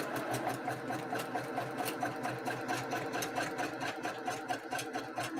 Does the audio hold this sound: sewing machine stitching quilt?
yes